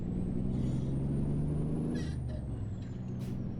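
An American truck with an 18-speed gearbox running in Europe, its engine droning low and steady before a gear change brings a hiss of turbo and air release, heard close and loud.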